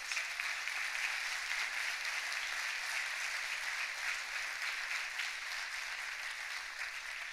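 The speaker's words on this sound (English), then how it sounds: "Would you give the staff a rousing round of applause?" Audience at a college presidential inaugural ceremony applauding the staff, a dense, steady wash of clapping that stays loud and even throughout with no voices standing out.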